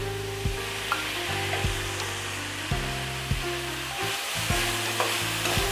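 Peas and diced potatoes frying in a pan for mutter fried rice, a loud continuous sizzle close by, with repeated knocks and scrapes of a spoon stirring, no talk.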